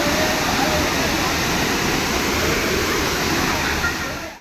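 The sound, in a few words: waterfall plunging about 50 feet into a natural pool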